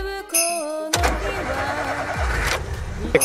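A vehicle engine cranks and catches near the start, then settles into a steady mid-pitched running sound as it pulls away, with a brief second surge later, heard close up on a cucumber farm.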